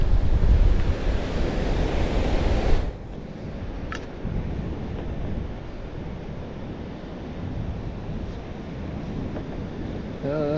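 Ocean surf washes onto a beach, loud at first and then a softer steady roar with wind buffeting the microphone, and a metal detector gives faint tones near the end.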